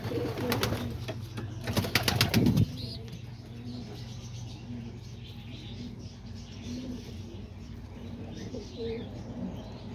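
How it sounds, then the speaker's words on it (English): Homing pigeons cooing in a loft, soft low coos running steadily throughout, with a brief burst of rustling and louder noise in the first few seconds. "So there's all the homing pigeons right there."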